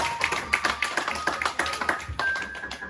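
A church congregation claps in steady rhythm to acclaim the Lord, a bright run of even beats filling the room, with a sustained musical tone running underneath.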